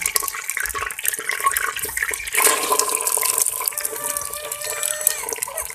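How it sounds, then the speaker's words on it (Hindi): Brinjal drops into hot ghee for a village-style potato and brinjal sabzi, setting off a sudden broad hiss of sizzling midway that carries on, fairly faint and close. "घी गर्म हो गया है, इसमें अब बैंगन डालेंगे।"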